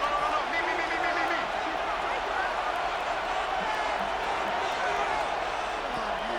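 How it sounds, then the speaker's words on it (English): A stadium crowd roars in a football video game, a broad steady wash of cheering before third down that holds at constant loudness throughout, with commentary voices mixed in. "This crowd into it now as we get to 3rd down."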